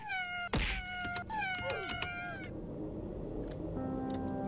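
A kitten in the Roblox game Poppy Playtime gives several sharp, close meows in quick succession, followed by a quieter stretch of faint game sounds and a few thin tones.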